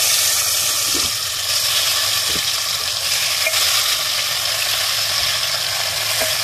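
Marinated chicken frying in a pan with cumin, cinnamon, bay leaves and green chillies, a loud steady sizzle close by with occasional stirring clicks and scrapes.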